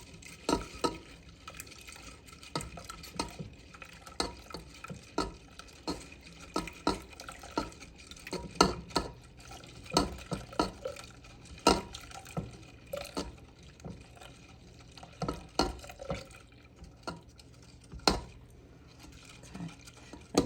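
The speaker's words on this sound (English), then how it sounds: "once we get this milk in there, we're going to let it come to like a bubble for 2 minutes" Milk filling for a coconut cream pie stirred in a pot as it heats: a steady run of soft scraping, sloshing strokes with occasional clinks of utensil on metal, close and fairly quiet, with no talking.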